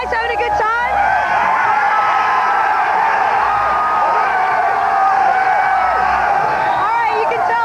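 A dense concert crowd at Day on the Green 1991 cheers and whoops continuously, a loud, steady roar of voices and shouts close around, with scattered high yells throughout.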